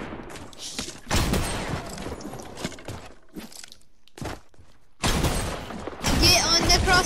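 Drum gun bursts in Fortnite, rapid gunfire cracking in loud clusters with brief gaps, with voices speaking over parts of it.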